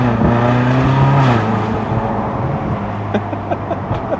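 A Ferrari California with a DCT transmission revs as it pulls away, a loud close engine note rising then shifting down to a lower steady drone.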